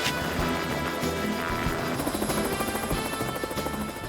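A helicopter's rotor thumps steadily and loudly overhead, a dense continuous whir with rhythmic chopping that holds throughout.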